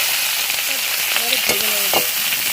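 Taro pieces dropping into hot oil and frying, a close steady sizzle with brief clinks and scraping from a utensil, a faint voice briefly underneath.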